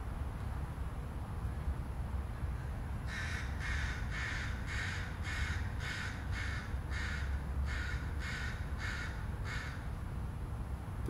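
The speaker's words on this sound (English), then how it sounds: "The crows are the noisiest of the birds, and it's hard to make out much else." About a dozen harsh crow caws in a steady run in a city park on a sunny morning, over a constant low roar of distant traffic.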